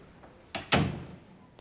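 A door in a police lieutenant's office is pushed shut: a soft lead-in knock, then a firm, close thud that rings out briefly in a quiet room.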